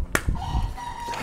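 A hen clucks and calls up close, with a few short vocal bursts and a sustained tonal note.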